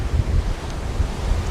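Ocean surf at Myrtle Beach, South Carolina: a steady, loud wash of waves mixed with rumbling wind buffeting the microphone, with no voices.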